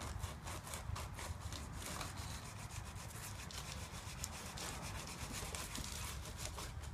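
Steady, close rubbing of sandpaper against the edges of a cube puzzle piece, a continuous rasping stroke repeated rhythmically without pause and with no voices.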